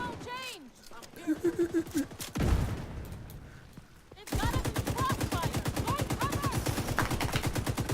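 Rapid bursts of gunfire in a VR video game, steady repeating shots dominating the second half after a brief pause, with a voice talking over earlier parts.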